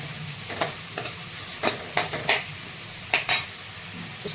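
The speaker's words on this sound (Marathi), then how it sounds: "आपल्या असल्यामुळं बारीक केलेलं टमाटर छान असं परतून घ्यायचं." Chopped tomatoes sautéed in a pan for tur and moong dal varan, with a spoon stirring them in a string of distinct scrapes and clicks over a faint background sizzle, close and moderately loud.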